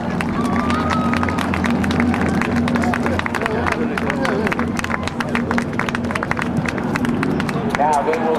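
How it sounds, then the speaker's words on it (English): Dense crowd applause and clapping at the 2008 Naval Air Station Oceana Airshow, welcoming the GEICO Skytypers; a steady, loud wash of hands with a constant low engine drone underneath throughout. "please welcome with your applause the GEICO Skytypers."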